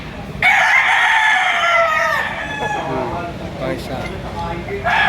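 A rooster at a gamefowl farm crows loudly and close by in one long drawn-out call, with people talking underneath and farm noise in the background.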